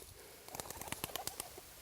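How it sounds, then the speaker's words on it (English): A pigeon dropped out by hand during pointing-dog training flaps its wings in a quick run of soft, rapid beats, faint and slightly distant over a quiet outdoor background. "I'm going to have Bruce just drop some pigeons out there for me."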